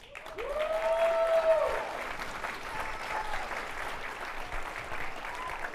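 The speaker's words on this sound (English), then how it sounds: "One more round of applause." Sustained clapping from a crowd for speakers at a talk event, steady and fairly loud throughout, with a faint whistle near the start.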